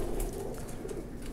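A female High Flyer pigeon coos softly and repeatedly, close by, with a low throaty rolling sound.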